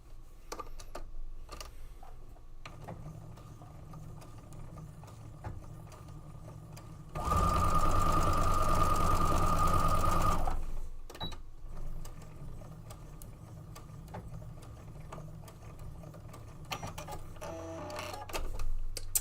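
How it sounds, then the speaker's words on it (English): A sewing machine stitches across a quilt block in one loud, steady, fast run of about three seconds, with quieter handling and fabric rustling before and after. "Fold it again, like this. This way. And sew over it one more time."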